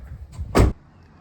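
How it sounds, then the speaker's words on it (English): A Dodge Ram truck door on a 2002–2009 third-generation pickup pops open with one short, loud, close clunk and latch release, preceded by faint handling noise and followed by quiet. "you pop the door"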